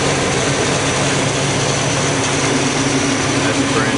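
A GMC Sierra with a 4.3L engine and Gibson exhaust idles while warming up, a loud, steady rumbling drone heard close under the open hood, with a voice talking over it.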